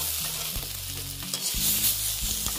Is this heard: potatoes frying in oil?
yes